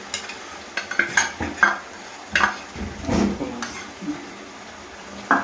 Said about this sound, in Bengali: সেই পেস্টটা দিয়ে দিলাম। দিয়ে এইবার ভালো করে কষবে।